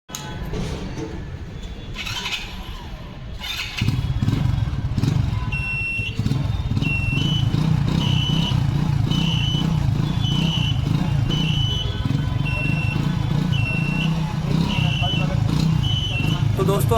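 A serviced Hero Splendor motorcycle engine runs steadily up close, a loud continuous idle rumble that steps up in level partway through, with some faint high-pitched tones and clatter around it.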